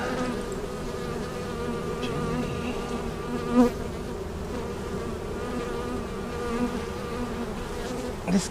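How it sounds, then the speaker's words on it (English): A dense, continuous buzz of many honeybees swarming close by, a steady droning hum with a few louder passes, and no talking. "this is an incredible swarm"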